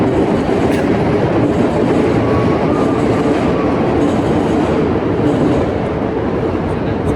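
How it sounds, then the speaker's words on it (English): A Chicago elevated train passes close by with a loud, continuous roar and rattle of wheels on track, steady throughout, with a faint high squeal in the middle. "We can't do nothing about Chicago trains."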